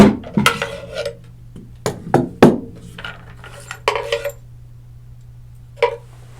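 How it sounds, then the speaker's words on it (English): Socket wrench with extension and half-inch socket working on the buttstock of a Maverick 88 shotgun, giving sharp metallic clinks and ticks in irregular bursts, close and clear, with quiet gaps and a steady low hum beneath. "use your socket wrench with extension and 1/2-inch socket to remove the buttstock"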